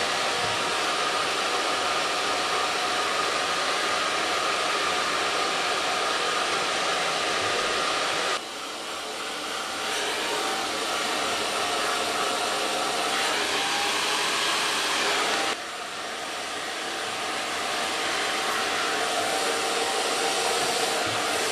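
A hair dryer fitted with a diffuser drying curly hair blows steadily and loudly throughout with no talk, its airflow briefly dipping twice as the setting or position shifts.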